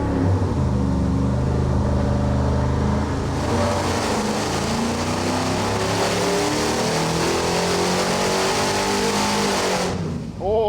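A junkyard 5.3L Vortec V8 on an engine dyno with a 150-shot nitrous kit, roaring loud and close at sustained wide-open throttle, pitch climbing steadily before cutting off abruptly near the end.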